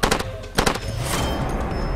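Gunfire at a pump in the Far Cry 2 video game: two sharp bursts of loud shots, the first at the start and the second just past half a second, followed by a sustained rumbling tail.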